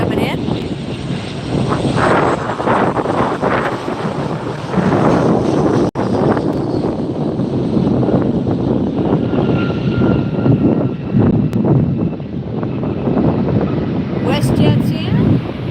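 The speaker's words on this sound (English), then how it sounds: "WestJet coming in." WestJet airliner landing at LAX, a loud sustained jet roar with wind buffeting on the microphone, filling the whole stretch at close range beside the runway.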